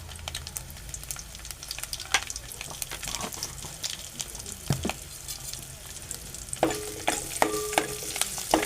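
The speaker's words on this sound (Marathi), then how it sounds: "आणि परतून घेणार आहे जेणेकरून लसूण शिजेल" Garlic cloves and turmeric being sautéed in a pan: close, busy sizzling mixed with frequent clattering scrapes and taps of a spoon stirring against the metal, with no voices.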